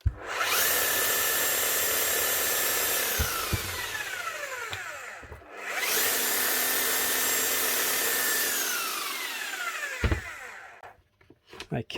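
A repaired Makita HR5001C rotary hammer is run twice up close, each burst a loud, steady whirring roar lasting about five seconds before winding down with a falling whine and clunks.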